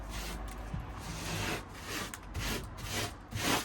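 Freshly applied 1.5mm aggregate render is rubbed up on a wall, giving a rough, continuous scraping swish in repeated strokes, close and fairly loud.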